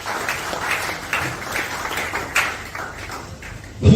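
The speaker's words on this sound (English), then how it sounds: "Please give a round of applause to the Emir of Nasarawa." Audience applause for the Emir of Nasarawa at an environment and climate entrepreneurship event, a steady wash of many hands clapping at moderate level, swelling louder at the very end.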